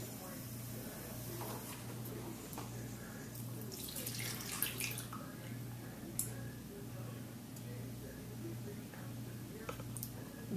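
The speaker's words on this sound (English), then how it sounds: "So we're going to drain the grease." Hot grease being poured off from a frying pan with chicken drippings, a continuous close hissing, trickling wash with a steady hum underneath and a few sharp clinks.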